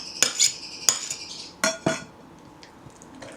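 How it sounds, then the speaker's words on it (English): A utensil clinks and scrapes against a bowl several times as codfish fritter ingredients and chopped Scotch bonnet pepper are stirred, close by, then the clatter fades to quiet. "just mix that up"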